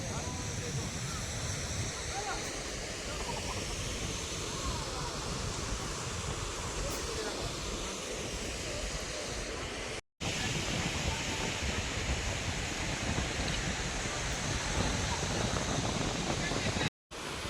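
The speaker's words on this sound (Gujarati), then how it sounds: "એક નંબર પાણી વહે છે બધે" Water rushes steadily at a temple site, a dense broadband roar like a nearby torrent or falls that holds constant except for two brief dropouts.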